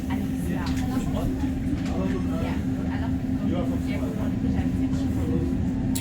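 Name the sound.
REM light rail train departing at night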